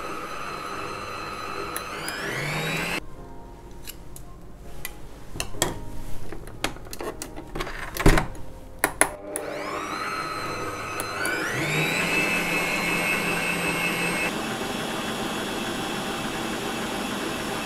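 An electric mixer whips cream, whirring loudly, its pitch rising and falling as speeds change, with clattering bumps against a bowl partway through.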